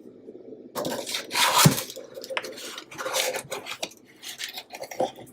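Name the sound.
spatula scraping cake pan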